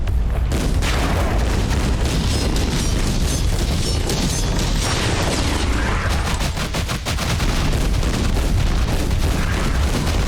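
Continuous loud rocket-weapon blasts and heavy gunfire from the shooter game Scathe, dense overlapping booms pounding without a break for about ten seconds, close and dominant with no voices.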